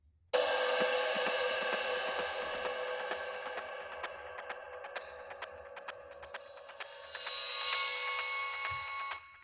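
Glitchy electronic percussion for an intrigue cue: a dense run of sharp, regular clicks and ticks over sustained shimmering tones, steady throughout with a brighter swell near the end, no voices.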